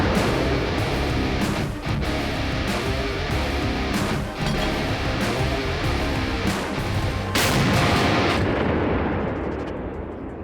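Repeated blasts from a 2A36 Giatsint towed artillery gun firing in a combat setting, with heavy booming reports and long rolling rumble filling the whole stretch, loud and dense, no speech.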